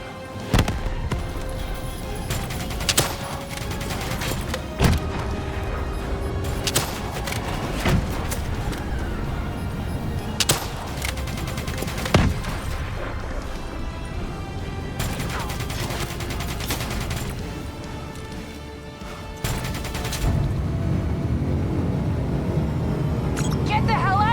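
Missile explosions and gunfire in the video game Call of Duty: Black Ops 3: sharp blasts and shot bursts recur through a dense battle mix, with voices talking over the action and a loud rumbling final stretch.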